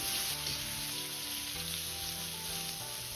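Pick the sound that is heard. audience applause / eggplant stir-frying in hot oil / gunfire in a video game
eggplant stir-frying in hot oil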